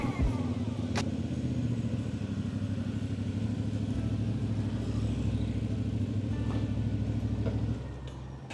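A CF Moto 450 MT motorcycle cruises along a road, its engine a steady, close drone with continuous wind and road rumble that eases slightly near the end; no one speaks.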